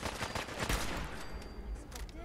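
Rapid rifle gunfire in the video game Fallout 4, a volley of sharp shots in quick succession with echoing tails, fairly quiet under a player's voice.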